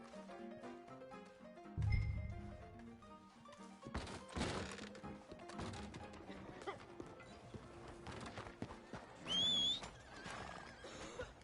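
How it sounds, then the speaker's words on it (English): A horse in a video game neighs loudly in a couple of sharp whinnies, mixed with hoof thuds, bumps and background game sounds, with little speech. "Damn horse."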